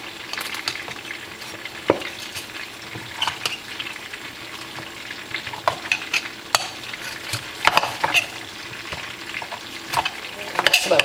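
Apples for apple cinnamon bites stirred in a pot with a utensil, giving scattered scraping clicks and soft knocks over a low, steady cooking hiss, close and alone with no voices.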